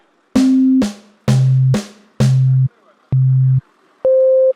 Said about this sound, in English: Here comes the timekeeping metronome.